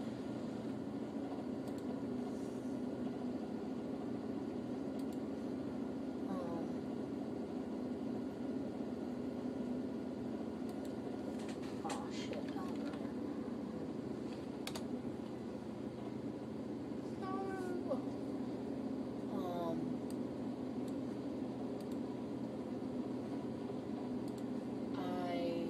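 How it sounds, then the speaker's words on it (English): A washing machine running indoors, a constant low droning hum with faint intermittent clunks and whirs, steady and fairly quiet throughout. "Sorry for the noise. It's my washing machine."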